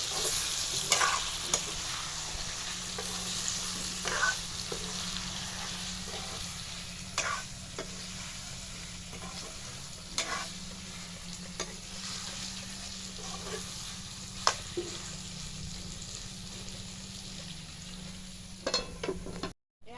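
Pork meat stirred and fried in a pan, a constant steady sizzle with scattered scraping clicks of the spoon against the pan, close and moderately quiet, no talk.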